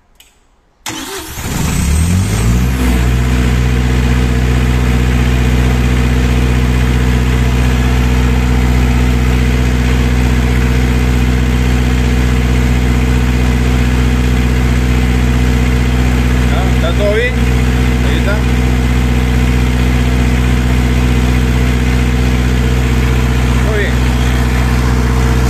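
A Perkins engine cranks and starts after a brief quiet moment, then idles steadily and loudly for the rest of the time, with a few faint clicks.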